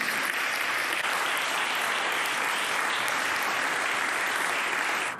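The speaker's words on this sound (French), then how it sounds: "il ne sied pas à la présidence de se joindre aux applaudissements de l'hémicycle" Sustained applause fills the Senate chamber after a farewell speech, a dense, steady wash of many hands clapping at even loudness throughout.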